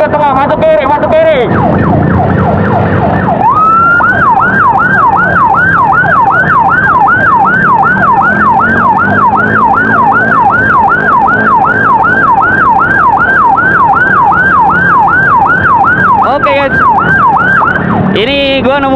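A loud wailing ambulance siren stuck in a traffic jam in Ciparai cycles rapidly up and down for a long stretch, close by, with a brief change of tone near the start and end.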